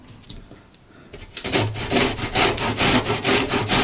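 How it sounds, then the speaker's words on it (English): An onion is grated on the small holes of a box grater, heard as a rapid run of rhythmic rasping strokes that starts after a brief quiet moment and stays close and steady. "Now we're going to take our box grater and we're going to use the smaller grate"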